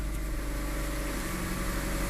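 A third-generation Mitsubishi Eclipse with about 165,000 miles idles steadily after a throttle body and mass airflow sensor cleaning, a low, even engine hum heard up close with no talking.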